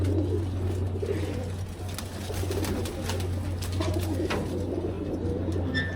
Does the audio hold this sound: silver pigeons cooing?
yes